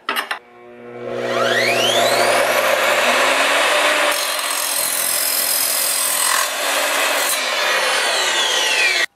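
A 10-inch TCT multi-material sliding miter saw spins up with a rising motor whine and bites through half-inch copper pipe, a loud, steady grinding cut of several seconds that eases as the blade winds down, with no talking.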